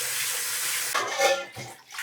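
Seaweed is rinsed in water with a mesh strainer, a steady close splashing and trickling that breaks into brief sloshes and swirls.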